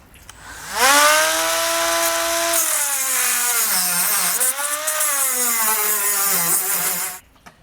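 A power tool cuts off a metal piece under the trunk pan of a 2019 Ford Edge while a trailer hitch is installed, giving a loud, continuous high-pitched grinding whine that wavers in pitch for several seconds before cutting out.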